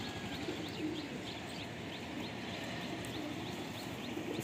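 A young Madrasi pigeon coos softly, mixed with a few faint chirps over a constant background hiss.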